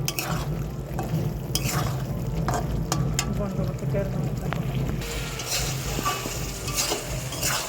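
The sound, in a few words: adding fried potatoes to fish kaliya in hot pan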